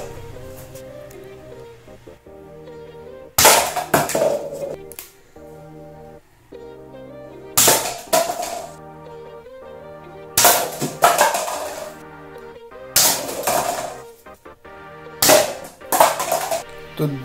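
Toy AWM sniper guns fire in four loud, sharp bursts spaced a few seconds apart, each shot followed by the clatter of plastic cups knocked off a stack on an airdrop box and helmet, with quieter gaps between.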